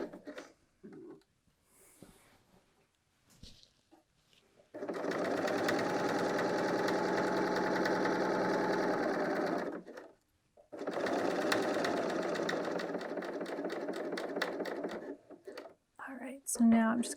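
A Bernina L 890 overlocker stitches a seam in knit fabric, running in two long steady bursts of fast whirring with a short pause between them, loud and close, with quiet handling noises before and after.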